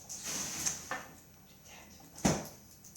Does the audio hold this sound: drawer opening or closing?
yes